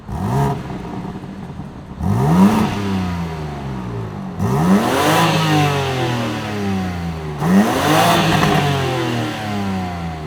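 BMW G87 M2 with a Remus axle-back exhaust revs hard three times, each blip rising and falling sharply over a steady idle, loud and close with no talking.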